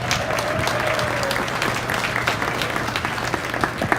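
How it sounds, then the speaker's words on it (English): Audience applause for a young exhibitor at a 2023 hog show, a steady wash of clapping from a crowd that holds at an even level throughout with no break. "Let's give her a nice round of applause."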